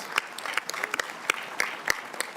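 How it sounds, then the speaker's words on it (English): Scattered, moderately quiet clapping from an audience at a joint House and Senate hearing of veterans service organizations honoring Alaskans, with sharp individual claps spaced irregularly over soft crowd noise. "How about a round of applause for my fellow Alaskans?"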